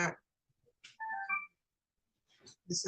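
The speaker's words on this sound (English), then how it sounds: "Turn your phone off, please." A mobile phone ringtone sounds in a courtroom: a short melodic electronic ring of a few bright tones between bursts of speech, fairly close and clear.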